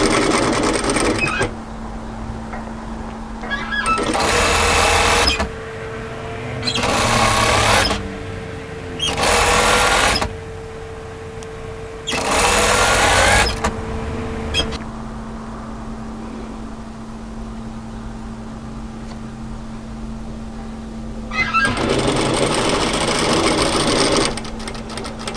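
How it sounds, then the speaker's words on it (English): A sewing machine stitches a 1 cm hem on a kimono kaftan, running in several steady bursts of a few seconds with short stops between, close and fairly loud, with no talking. "we're going to sew from side to side"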